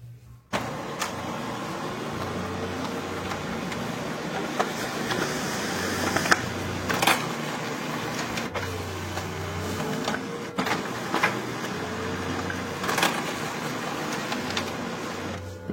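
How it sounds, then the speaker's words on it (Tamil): A Brother DCP-L2605DW laser printer runs a double-sided job, its steady mechanical whir broken by repeated clunks and rising motor sweeps as paper feeds and reverses, close and continuous with no talk. "பிரிண்ட் ஆகி முடிஞ்சிருச்சு 2 சைடும்"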